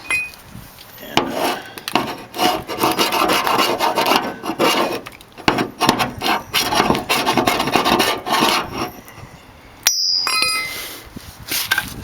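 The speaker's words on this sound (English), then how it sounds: "sand off the high spots on that" Bondo body filler being sanded on the rear bodywork of a 1968 AMX, a steady close rasping scrape in rapid back-and-forth strokes that runs for about ten seconds before a brief pause and a final burst.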